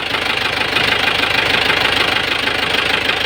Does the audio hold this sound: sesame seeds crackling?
no